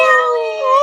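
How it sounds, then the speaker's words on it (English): A tuxedo cat gives one clear, close, drawn-out meow with a slight dip in pitch, loud and alone. "it's meowing"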